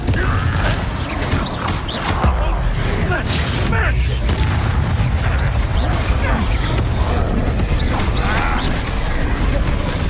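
The Confringo explosion spell in the video game Hogwarts Legacy goes off during a dense battle, loud blasts and crashing mixed with creaking, mechanical effects, a constant wall of combat noise under some speech.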